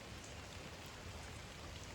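Heavy rain falls outdoors near a swelling river, a dense, even hiss of drops on surfaces heard faintly and continuously with no voices.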